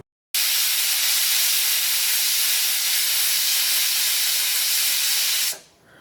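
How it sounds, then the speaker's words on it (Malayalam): A pressure cooker of mutton stew vents steam in one loud, sustained hissing whistle that starts abruptly after a moment of silence and cuts off near the end. "ഇപ്പോൾ കുക്കറിൽ നിന്ന് ഒരു വിസിൽ വന്നിട്ടുണ്ട്."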